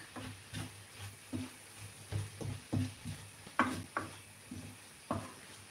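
Spinach with vegan sausage cooking in a pan at home, a soft sizzle running underneath while a utensil scrapes and taps the pan in irregular strokes, fairly quiet and close.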